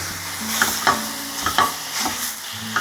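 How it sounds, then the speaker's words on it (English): Breakfast sausage browning in a pan sizzles steadily up close, with a few sharp scrapes and taps of stirring at irregular intervals. "while our sausage is starting to brown up"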